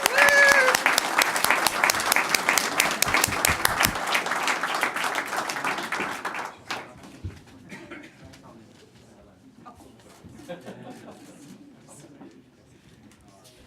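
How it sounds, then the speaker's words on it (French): Audience applause after an official partnership signing ceremony between the City of Moncton and the Université de Moncton. Loud, fast clapping runs for several seconds, then thins to scattered claps and murmuring voices. "Une bonne main d'applaudissements."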